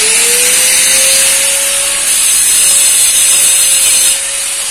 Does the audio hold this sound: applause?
no